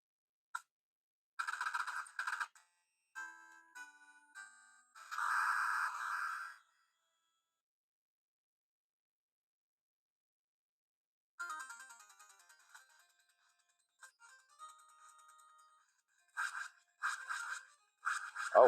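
Contra game sounds from the small speaker of an R36s handheld: bursts of bright, tinny chiptune effects and blips in short clusters, separated by a long stretch of silence, fairly faint and close.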